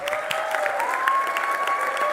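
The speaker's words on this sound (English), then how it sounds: "for that, we should give ourselves a round of applause" A graduation ceremony audience breaks into applause, a dense, even wash of many hands clapping continuously, with a faint tonal hum running underneath.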